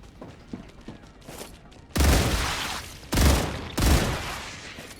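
Three heavy bursts of gunfire in the StarRupture game, loud and close, crack out one after another with short gaps between them, following a few seconds of quieter, scattered background sounds.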